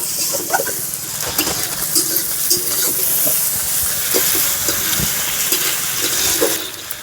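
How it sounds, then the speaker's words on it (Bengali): Thinly chopped garlic and ginger fry in a hot pan with a loud, continuous sizzle and hiss, while stirring adds intermittent scrapes; no one speaks. "রসুন কুচি আদা কুচি পাতলা পাতলা করে কুচে নিয়েছি এবার সবগুলো একসাথে ভেজে নেব"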